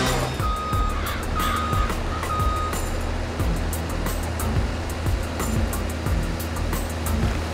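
A CAT mini excavator digs soil with a constant rumbling diesel engine, repeated scraping and clunking of the bucket, and a few short beeps early on.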